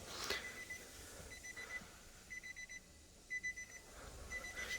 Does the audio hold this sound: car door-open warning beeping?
yes